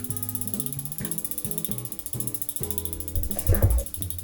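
A part on an old road bike is unscrewed with a ratcheting tool, giving a rapid run of close mechanical clicks in a steady rhythm, ending in a louder thump of handling.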